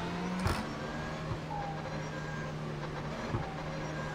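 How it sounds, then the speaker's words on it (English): A race car engine drones steadily in the iRacing simulator, with brief sharp bursts like turbo wastegate chatter near the start and end, and no voices. "I like that wastegate sound."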